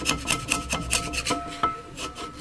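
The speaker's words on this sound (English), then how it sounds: "Just peel off the glue with a chisel" A chisel scrapes old glue off the frame of a JBL 2226H 15-inch professional woofer in a quick series of rhythmic rasping strokes, close and fairly loud, with no talking.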